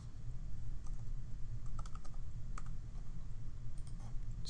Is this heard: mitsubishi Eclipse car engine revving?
no